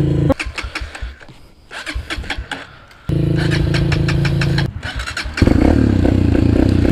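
A Honda CRF dirt bike engine, a CRF150F or CRF230F, runs close by with a throaty, uneven single-cylinder note that revs and drops in short surges before settling into a louder steady run.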